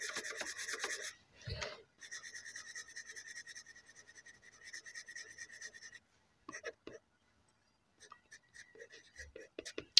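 Dry pastel pencils rasping across paper while colors are blended, soft scratchy strokes in short bursts with pauses, close and faint, with a quiet voice at times.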